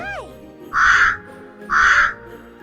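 Two loud, harsh crow caws, evenly spaced about a second apart, ring out clearly and close by.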